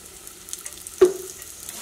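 Mustard seeds, ginger, onion and chilli fry with turmeric in hot oil, a soft, close sizzle with one sharp pop from a seed bursting.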